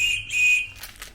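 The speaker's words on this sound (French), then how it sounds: "le petit couteau sifflet" A small whistle built into a pocket knife gives a sharp, shrill high tone lasting about half a second, close and loud, then fades into faint rustling.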